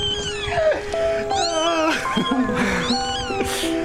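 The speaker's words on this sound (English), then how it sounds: "there's all these kittens in here" Several kittens meow close by in high, overlapping cries that repeat throughout, some rising and falling in pitch, over a faint background murmur.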